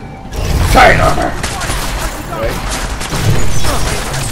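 Gunfire in Deus Ex Mankind Divided, with rapid overlapping shots and crashing impacts in a loud, dense burst, while someone shouts over the chaos.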